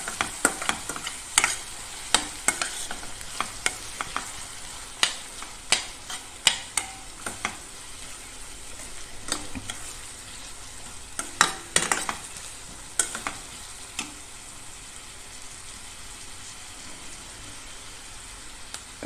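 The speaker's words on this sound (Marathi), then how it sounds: "मिरची झाल्यानंतर आपण हा कांदा टाकूया आणि कांदा चांगला परतून घेऊया" Onion sautéing in a pan with garlic and green chillies, a steady soft sizzle under repeated sharp scrapes and clicks of a spatula stirring against the pan, close and moderately loud.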